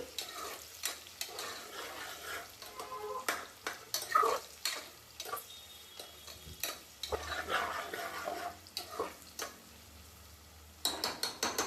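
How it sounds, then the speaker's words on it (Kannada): Onions frying toward golden brown for dhaba-style chicken masala, a steady sizzle broken by frequent clicking spoon strokes and pan knocks, close and moderately loud with brief pauses, no talking. "ಇದರಲ್ಲಿ ಆನಿಯನ್ ಸ್ವಲ್ಪ ಗೋಲ್ಡನ್ ಬ್ರೌನ್ ಕಲರ್ಗೆ ಟರ್ನ್ ಆಗ್ಬೇಕಾಗತ್ತೆ. ಸೊ ಅಲ್ಲಿವರೆಗೂ ಇದನ್ನ ನೀವು ಚೆನ್ನಾಗಿ ಫ್ರೈ ಮಾಡ್ಕೊಳ್ಳಿ"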